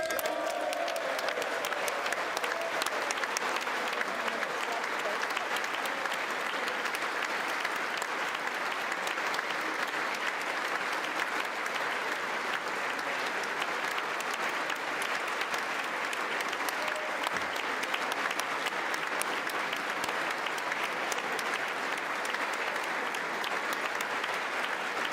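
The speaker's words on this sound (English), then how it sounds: "Standing ovation, loud applause for President Zelensky." A large crowd in a legislative chamber gives President Zelensky a standing ovation, with sustained, dense applause that carries on evenly for the whole stretch, heard from a distance.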